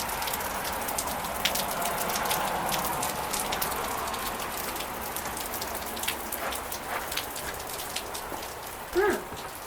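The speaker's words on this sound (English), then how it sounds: "it's really rainy out here" Steady rain falling outside a house, a dense even patter of drops on surfaces that holds for the whole stretch, with one brief louder knock near the end.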